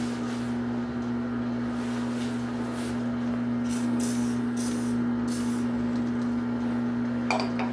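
Lubricant hisses from a spray can in several short bursts over a steady background hum, during work on an engine cam and pistons.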